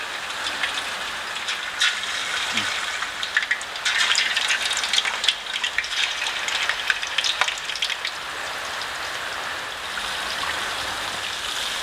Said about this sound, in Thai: เสร็จแล้วก็ทอดเลย